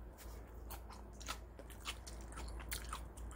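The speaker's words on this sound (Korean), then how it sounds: "씹히는 맛도 아삭아삭하니 정말" Someone chews crunchy bean sprouts grown with green tea water, producing quick, crisp, close-up crunches and bites in a steady rhythm, with no talking.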